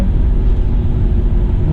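A BMW E34 with an old engine design dating back to the 1970s idles with a loud, steady low rumble and no speech over it.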